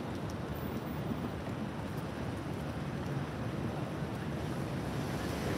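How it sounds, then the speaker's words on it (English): Steady outdoor wind roars and buffets the microphone throughout, a dense continuous rumble with no pauses and no voice over it. "It's a little windy out here"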